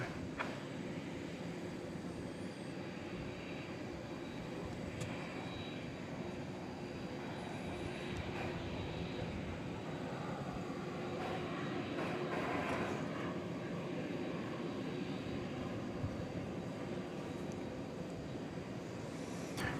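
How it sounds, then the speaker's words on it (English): Qantas heavy jet taking off from runway 18 left at Dallas Fort Worth airport at night, a steady broadband engine roar that stays loud and constant throughout. "Qantas Heavy, DFW Tower, on departure, turn right heading 190, runway 18 left. Clear for takeoff."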